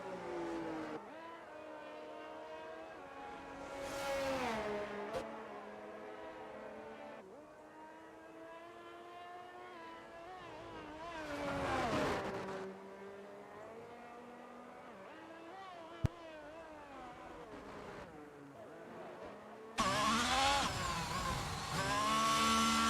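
A Ferrari race car in a racing video game pulls into the pit lane, its engine droning and shifting pitch as it slows, with a faint click and a burst of broadband noise near the end.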